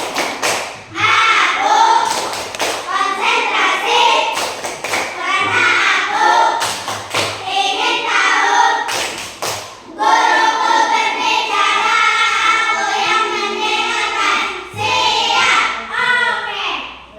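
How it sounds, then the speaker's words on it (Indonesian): Indoor classroom 'tepuk konsentrasi' clapping chant by Indonesian schoolchildren, with sharp claps punctuating continuous sung or chanted voices throughout, loud and close. "Sekarang tepuk konsentrasi."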